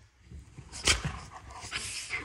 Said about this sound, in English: Oh, these crazy dogs.